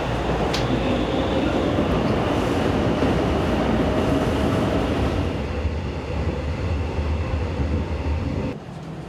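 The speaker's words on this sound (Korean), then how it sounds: "종착역까지 열차는 수십 개의 터널을 지나게 됩니다." A Mugunghwa passenger train on the Taebaek line runs through mountain tunnels with a loud, steady rumbling roar that eases and shifts partway through, then drops off sharply at the end.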